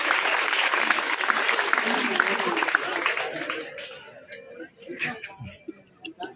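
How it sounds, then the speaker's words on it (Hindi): A crowd at a professor's retirement program in Makrana claps enthusiastically to welcome guests; the dense applause fades after a few seconds and gives way to murmuring voices and a few scattered claps. "एक बार जोरदार तालियों के प्रकार से सभी अतिथियों का स्वागत करें"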